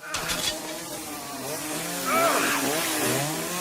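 A chainsaw from the film The Texas Chainsaw Massacre 2 snarls and revs loudly, its engine pitch wavering up and down for the whole stretch, dense and close.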